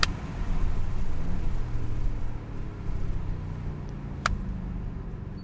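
2023 Audi S8 engine pulling hard through its gears in manual mode, a steady low rumble from inside the car with a brief shift blip near the end, no talk over it.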